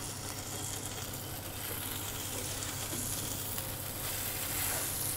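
Red tuna searing in a hot pan with olive oil, salt and pepper, a dense, loud, continuous sizzle that swells slightly toward the end.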